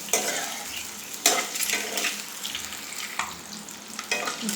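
Onions and other ingredients for Rayalaseema-style egg dum biryani fry in hot oil in a pan, giving a steady crackling sizzle with a few louder stirring scrapes and clinks. It is close up, and no one speaks.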